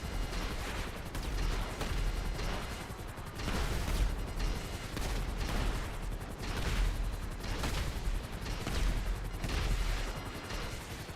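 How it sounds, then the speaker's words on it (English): Tank cannon fire in GTA Online comes as loud, dense repeated blasts roughly once per second, heavy booming bursts that blur together over constant rumbling game noise. "Fucking cannon fire from a tank"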